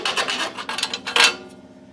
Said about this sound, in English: So nothing more than a round hole with a drill bit and then square file and start going at it.